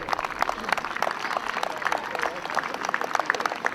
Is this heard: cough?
no